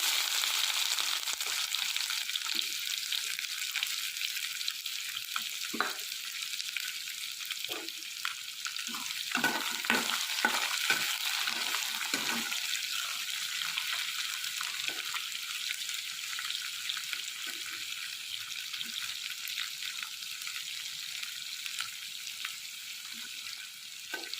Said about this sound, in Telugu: ఈ ఉల్లిపాయ ముక్కల్ని కొంచెం గోల్డెన్ కలర్ వచ్చేంత వరకు ఫ్రై చేసుకుందాం.